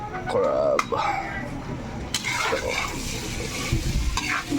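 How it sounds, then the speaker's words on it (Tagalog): Crab being stirred in a frying pan, a steady close sizzle with scraping strokes and occasional clanks of the utensil against the pan while a voice talks over it. "magluluto tayo ng crab"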